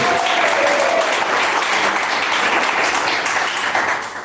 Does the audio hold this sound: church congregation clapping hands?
yes